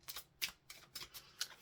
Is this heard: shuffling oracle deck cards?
yes